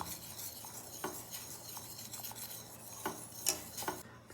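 Quiet scraping and stirring as dark chocolate melts into milk in a pan for hot chocolate, with a spoon tapping and rubbing against the metal now and then; soft, close and without voices.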